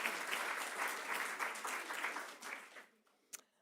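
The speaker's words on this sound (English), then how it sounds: "now you can give her a round of applause for all the organising." Audience applause at a talk on endangered languages, a brisk burst of clapping from a seated crowd that fades out, followed by a single faint sound.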